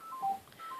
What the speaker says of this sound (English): that's my phone going, and that's probably my husband.